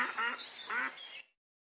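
Farm ducks quacking, two close, loud, nasal quacks in quick succession followed by a shorter trailing call, with nothing else around them.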